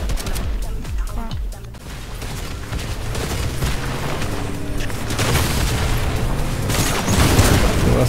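Explosions and bursts of gunfire in a Fortnite match, a busy loud stream of booms and shots layered over game noise, with a heavier blast swelling near the end.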